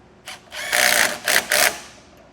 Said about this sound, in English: I'll get this tightened down with a 10mm socket and wrench